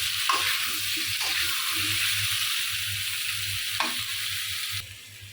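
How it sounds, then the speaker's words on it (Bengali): Pumpkin pieces frying with turmeric and salt in a pan, a steady close sizzle with a few stirring scrapes throughout, no voices, cutting off near the end. "আমি কিন্তু মিষ্টি কুমড়াগুলো একটু বাজি করে নিচ্ছি হলুদ আর লবণ দিয়ে"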